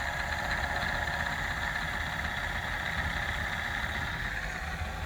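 An engine runs steadily while driving a battery-charging rotor up to a faster spin, giving a constant, even drone of moderate loudness with no speech.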